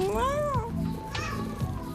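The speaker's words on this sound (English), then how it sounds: "Is that a cat?" Kittens meowing up close, one long rising-and-falling mew followed by shorter cries, loud and clear against a quiet room.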